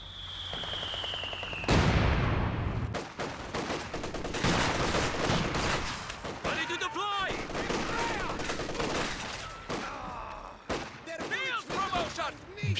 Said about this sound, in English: MG34 locking out the guards again.